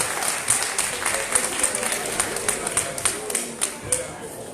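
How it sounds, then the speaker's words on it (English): Applause from a conference audience, a steady wash of many hands clapping at moderate distance, fairly faint and sustained for the whole stretch. "A round of applause one more time"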